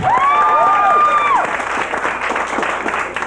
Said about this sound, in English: Single people, applaud.